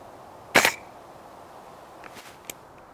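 Airsoft gun fitted with a GoPro camera mount fires a single sharp, loud snap, followed by a few faint clicks and taps in otherwise quiet surroundings.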